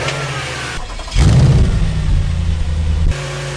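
Audi S5 engine, freshly serviced with new spark plugs and filter, cranks over and catches with a loud rising rev, then settles into a steady, deep idle before cutting off abruptly.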